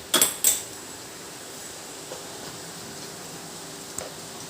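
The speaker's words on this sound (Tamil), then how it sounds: "இப்போ நம்ம ஒரு கடாய் எடுத்துக்கணும்." A metal kadai is picked up and set down in a home kitchen during veg burger preparation, two quick clanks at the start, then faint light taps over a steady fan-like hum.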